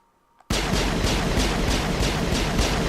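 Gunfire in the Mass Effect video game: after a brief quiet moment, a loud, sustained burst of rapid automatic shots erupts and continues without pause, dense and forceful.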